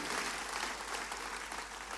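A church congregation applauds in a dense, steady wash of clapping, fairly distant and uniform for about two seconds.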